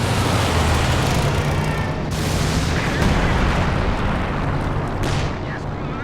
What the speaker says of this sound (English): someone's calling heavy artillery down here